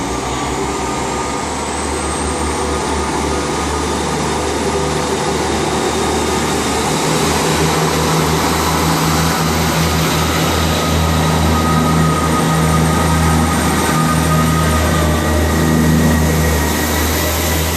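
A Turbo diesel multiple-unit train pulls into Westbury station with a steady engine drone and rumbling rail noise that fills the platform and grows slightly toward the end, with no voices.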